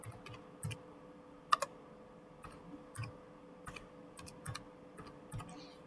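Sparse keystrokes on a computer keyboard while card details are entered, quiet scattered clicks in small bursts with gaps, one sharper double tap near the middle, close and alone.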